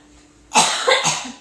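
A loud, close cough bursts out after a brief hush, breaking into two or three rough pulses that fade at the end.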